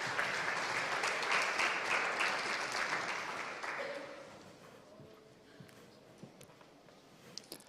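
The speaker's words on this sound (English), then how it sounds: "Please, a big applause to Moises." An audience applauds a startup founder at a live event, loud sustained clapping for about four seconds that fades out into quiet room tone with a few scattered claps.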